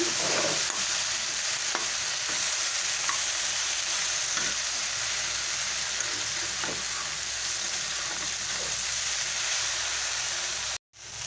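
Okra and turmeric hiss in a hot frying pan under a constant sizzle, with faint intermittent scrapes of stirring before a brief drop-out near the end.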